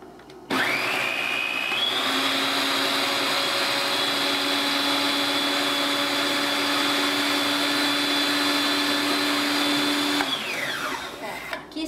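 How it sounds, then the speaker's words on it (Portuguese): A very good kitchen blender runs steadily for about ten seconds, blending corn pulp for a green corn cake. Its motor whine starts after a brief rising spin-up and holds loud and even before winding down. "pra fazer no liquidificador tem que ser um liquidificador muito bom"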